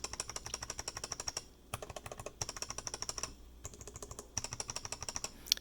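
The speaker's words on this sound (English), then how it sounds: "Now for the wood keycap." Rapid, steady typing on a mechanical keyboard with wood keycaps, a hollow, woody clack, close up, in three bursts with brief pauses.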